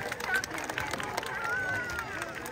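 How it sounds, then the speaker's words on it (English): An outdoor audience at a safari park bird show in Hamilton, Ontario breaks into applause and chatter, with scattered clapping mixed into crowd babble and wind at moderate distance. "Let's give him a big round of applause,"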